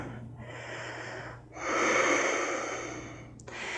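A yoga practitioner breathes audibly during a forward bend: a short breath, then a long, loud, rushing exhale that swells and fades, then another breath starting, close and with no talk.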